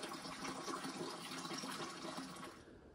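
Water from a tap at a village rest stop on the Lycian Way in Turkey gushes out in a steady close stream, then thins and stops near the end.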